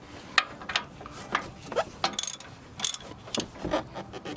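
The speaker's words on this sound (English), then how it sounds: "and then we're going to tighten that nut" A ratchet tightens the nut on a front bump stop of a Hummer H2, a series of sharp clicking pawl bursts in an uneven rhythm, close and clear with no talk.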